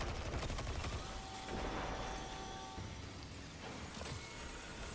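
Auto rifle fire in Destiny 2 during a solo Grandmaster Nightfall, a dense continuous burst of rapid shots with layered game effects throughout.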